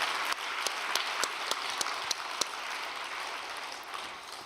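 A distant crowd at a Korean religious gathering applauds in thanks, a soft, even patter of clapping with a few sharper claps that fades toward the end.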